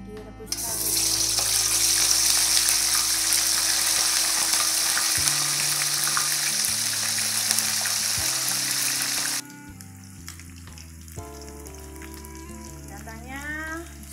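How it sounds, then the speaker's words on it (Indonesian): Boiled chicken pieces dropped into hot oil over a medium flame, loud steady sizzling that starts abruptly and roars for several seconds, then cuts to quieter kitchen clatter. "Kita goreng ayam yang sudah direbus tadi."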